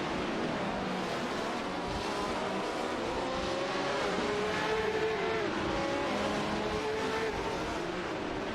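Race cars in an AI racing video game pass in a steady stream, several engines droning and whining together at a constant, loud level with no pauses.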